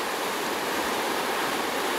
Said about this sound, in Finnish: Kaunis Kermankoski. Melkoisen jylhät on pauhut täällä.